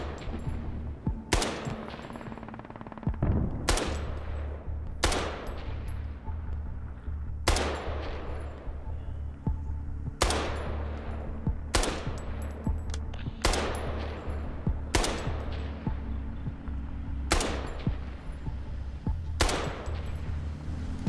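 Gunfire from a war video game sounds as evenly spaced, sharp single shots, about a dozen over twenty seconds, each cracking loudly over a low steady rumble.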